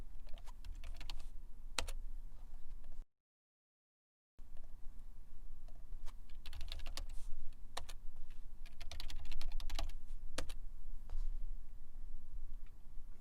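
Keys clatter on a computer keyboard while typing in a terminal, a quick uneven run of close clicks that breaks for a brief silent gap and then resumes.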